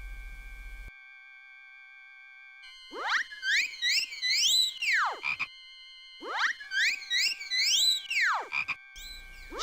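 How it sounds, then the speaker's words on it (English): Cartoonish frog croaks from the Discworld video game, two bursts of repeated warbling, swooping croaks separated by pauses over a faint steady electronic hum. "we have to make sure that frog is there in the first place"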